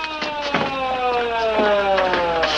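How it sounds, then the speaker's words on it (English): An ambulance siren wails steadily in a police drama scene, its tone sliding up and down over a noisy background, with a few sharp bangs breaking through. "The ambulance."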